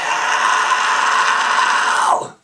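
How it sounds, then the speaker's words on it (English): A single sustained high-pitched compression fry scream, a strained, gritty vocal yow held loud and close for about two seconds before cutting off abruptly into silence. "do that same prolonged grunt, but then try to squeeze your muscles in your throat together to get that high-pitched yow!"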